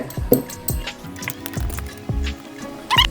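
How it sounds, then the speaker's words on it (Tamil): Sweet rava appam batter with cardamom powder and ghee is stirred in a bowl, giving a run of close, wet squelching strokes with occasional light clinks of the spoon. "இப்போ நல்லா கலந்து விட்டுடலாங்க."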